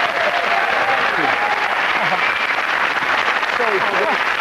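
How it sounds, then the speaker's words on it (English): A studio audience at a TV sports panel show gives a sustained round of applause, dense and steady, with voices faintly mixed into the clapping. "you actually got a proper cricketing round of applause for that"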